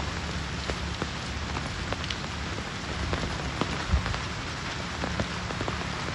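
Steady rain falling on surfaces, a dense continuous patter with scattered louder drops, no voices.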